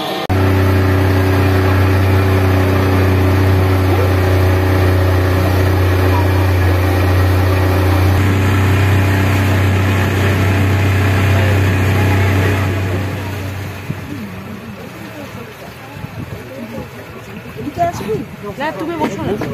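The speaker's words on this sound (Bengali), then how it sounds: "এখন আমরা নৌকায় করে যাচ্ছি ছবিমুড়া" A motor boat engine droning on the Gomati River on the way to Chabimura in Tripura, a loud steady low hum that later fades and thins, with people talking over it.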